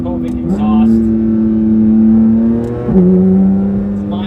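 A Porsche 911 GT3 RS with an Akrapovic exhaust revs loudly and close, with a sustained engine note that rises twice in pitch.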